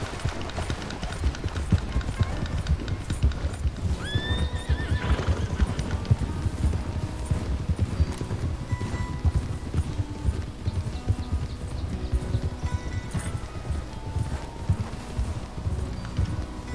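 Horses in the Red Dead video game clip-clop steadily at a run while one neighs loudly, hoofbeats continuous and close throughout with a whinny rising briefly midway.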